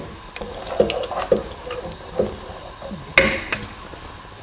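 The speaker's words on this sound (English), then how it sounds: "Add some water in." Tap water runs into a cooking pot while making baked rigatoni, a close splashing flow with a few sharp knocks and clinks of the pot, no voices.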